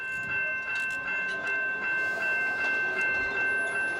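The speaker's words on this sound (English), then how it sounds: "the mere sound of the train" A suburban light rail train rolls past with a steady rumble and rhythmic wheel clatter, carrying a sustained high tonal ring above the noise.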